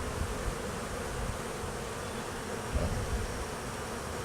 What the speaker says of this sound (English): Okay, so basically we only got 3 good frames of bees.